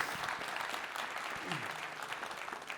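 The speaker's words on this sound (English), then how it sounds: "How about a round of applause while we..." An audience at a conference talk on open observability applauds, a dense, even wash of clapping held at a steady level throughout.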